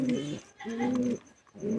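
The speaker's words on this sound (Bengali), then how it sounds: "কিছু পায়রা শো করাচ্ছি তোমাদের কাছে" Pet pigeons coo close by in three deep, throaty bursts separated by brief pauses.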